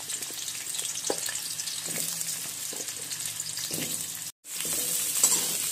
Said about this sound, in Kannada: ಈಗ ಇದೇ ಆಯಿಲ್ಗೆ ಆಲೂಗಡ್ಡೆಯನ್ನು ಹಾಕಿ ಫ್ರೈ ಮಾಡೋಣ